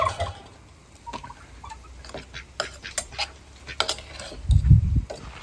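Farm chickens cluck and scratch as they are fed rice and egg curry, with clattering of pots and dishes nearby and a louder thump of activity near the end.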